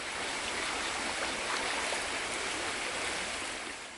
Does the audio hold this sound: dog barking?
no